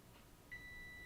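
A kitchen oven timer sounding while muffins bake: a single sustained electronic beep tone that starts partway in and holds steadily, quiet and close, with no talking.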